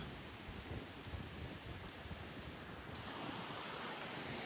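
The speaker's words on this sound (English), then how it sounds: "Here comes a gust right now." A strong wind gust roars through a backyard during a storm with 66 mph winds, a broad, loud rushing noise with mic buffeting that swells further toward the end.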